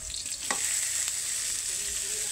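A spoon stirs a pot of coconut-based soup with vegetables over the heat: a steady close frying hiss with a few quick scraping knocks near the start.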